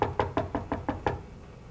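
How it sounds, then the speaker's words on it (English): Knuckles rap on a door in a hospital nursing role-play, seven firm, evenly spaced knocks in quick succession, close and clear with no talking over them. "you're going to get a knock at a door from another nurse asking you something or telling you something"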